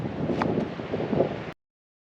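Wind blows across an outdoor spot at Landsford Canal State Park among spider lilies, a close, rushing microphone gust with rustling for about a second and a half before abrupt silence.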